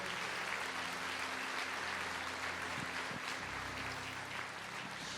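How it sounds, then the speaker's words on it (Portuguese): A church congregation applauds in a steady, dense patter with a faint low hum underneath, continuing evenly from start to finish. "Você pode aplaudir ao Senhor?"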